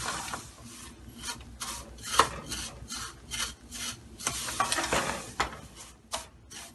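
Vermicelli is stirred and roasted in a pan over medium-low heat, giving a rhythmic run of dry scraping strokes with a faint sizzle beneath.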